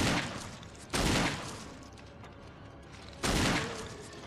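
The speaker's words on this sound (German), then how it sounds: "Drei Schuss von einer Magnum?" Two loud magnum gunshot blasts in a video game, about two seconds apart, each a sharp boom with a ringing tail, over a steady background rumble.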